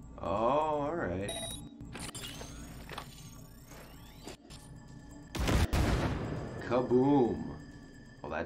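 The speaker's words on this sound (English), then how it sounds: "Detonate the grenade." A grenade detonates in the Cyberpunk 2077 video game, a single loud broadband blast mid-clip that decays with debris and rumble, surrounded by game sounds and voices talking before and after.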